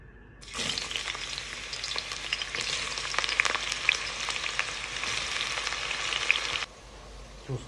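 Chopped onions fry in hot oil for a stir-fried turkey dish, a close, continuous sizzle with crackling pops that starts abruptly and cuts off near the end, with no talking.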